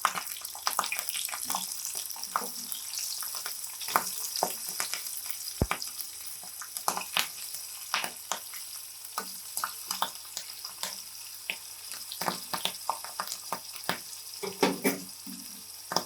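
Hot green chilies frying in oil for a tempering, a steady crackling sizzle with repeated sharp pops and the odd clink of a utensil, close by.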